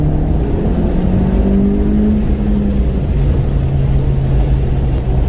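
A car engine roars loud and close through an acceleration pull, a steady throaty drone with pitch climbing through the revs, no voices heard over it.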